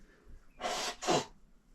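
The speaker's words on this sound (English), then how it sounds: "Quickly blow my nose." Someone blows their nose twice in quick succession, two short, close, breathy honks with a brief pause between them, in a quiet room.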